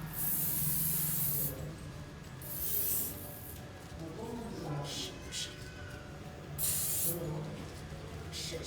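Several hissing bursts of tick spray applied to a dog, close by, separated by pauses, with a voice talking softly between and under them.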